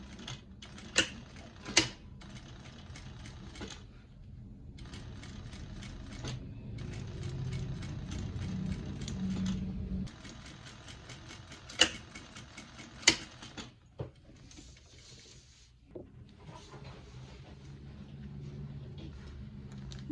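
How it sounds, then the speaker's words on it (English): Sewing machine stitching along a zipper tape on a crossbody bag lining, a steady soft mechanical whir in bursts with pauses, plus a few sharp clicks and handling knocks close by. "And then I'm just gonna sew along the zipper, probably about in the middle of the tape."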